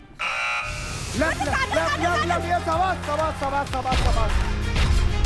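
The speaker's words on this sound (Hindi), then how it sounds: "पहला बजर दबा दिया है" A short electronic game show buzzer sounds at the very start, followed by excited talking and crowd noise.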